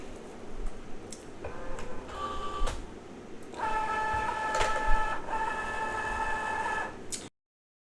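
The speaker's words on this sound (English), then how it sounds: "So I'm just going to go ahead and load this into the Cricut Joy." A Cricut Joy cutting machine slices glitter puff vinyl, giving a steady mechanical whir with ticking, buzzing motor tones that rise and fall, louder in the second half, then stop abruptly.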